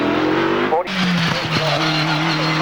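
A Rover RT1 racing car climbs the Prescott hillclimb with a loud, close engine roar whose pitch rises and falls through gear changes, while a commentator talks over it.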